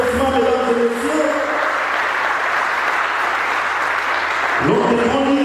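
A conference audience applauds to welcome a lawyer to the stage, a dense, steady clapping that fills the room for several seconds, with a voice speaking over the start and end.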